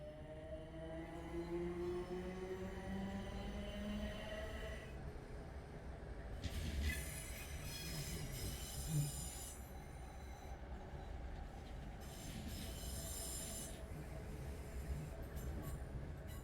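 A Class 455 train departs with loud, sustained wheel squeal, its high tonal screeches rising and wavering over steady rolling rumble, with bursts of brighter grinding partway through; no talking.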